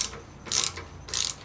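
A ratchet loosens a 5mm muffler bolt on a Yamaha Raider motorcycle: two short, close bursts of rapid metallic clicking separated by a brief pause.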